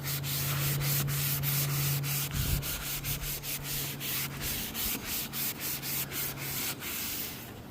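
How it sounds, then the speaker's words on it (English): A Scrub Daddy sponge loaded with Power Paste scrubs a car headlight in steady, rhythmic back-and-forth strokes, a close, dry rubbing swish repeated many times with no talking. "I'm going to use Power Paste with a Scrub Daddy"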